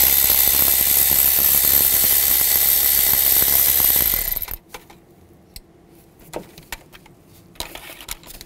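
A ratchet with a 10 mm socket loosening water pump bolts on a 2010–2017 Chevrolet Equinox, a steady fast clicking that runs for several seconds, then stops, followed by scattered small metallic taps and clinks close by.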